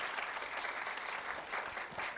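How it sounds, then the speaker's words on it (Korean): A youth camp concert audience applauds a speaker, giving sustained, even clapping from a crowd with no voices standing out. "우리 규리 리더님께 다시 한번 큰 박수 부탁드리겠습니다"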